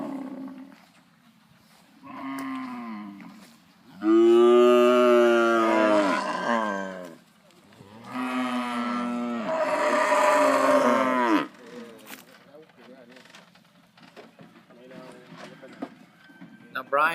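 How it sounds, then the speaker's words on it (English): A cow on a smallholder dairy farm in Malawi moos in long, loud, close calls, two main bellows with a softer lead-in, followed by quieter farm rustling. "Here he is preg checking a cow."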